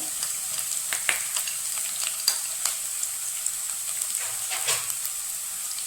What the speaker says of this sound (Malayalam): ഇഞ്ചി ചെറുതായി അരിഞ്ഞത്, പച്ചമുളക്, വറ്റൽമുളക് ഇതൊക്കെ ഇതിനകത്തേക്ക് ചേർത്ത് കൊടുക്കാം